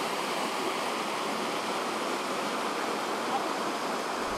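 Water pouring steadily out of the Gerastollen tunnel, a channel feeding the Ohra reservoir near Oberhof, as a constant broadband rush that stays loud and even throughout with no voices.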